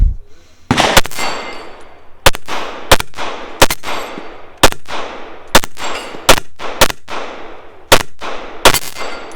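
Gunshots ring out at a shooting competition, each loud crack followed by the metallic clang of a steel plate being struck, in a string of about ten evenly paced hits that echo briefly.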